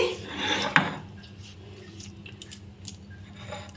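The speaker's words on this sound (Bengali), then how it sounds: "দেখুন বন্ধুরা, আমি এটা একদম মিহি করে বেটে নিচ্ছি।" Ginger being ground into a fine paste on a grinding stone, a coarse rasping scrape with a sharper rub near the start, then quieter scraping strokes continuing close by.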